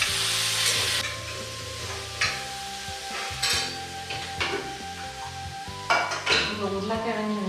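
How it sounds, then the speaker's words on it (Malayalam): Chopped ginger and onion sautéing in oil in a pan, a continuous sizzle broken by repeated scraping stirs and clinks of a utensil against the pan, close and moderately loud, with no talk. "നന്നായിട്ടൊന്ന് വഴറ്റിയെടുക്കണം."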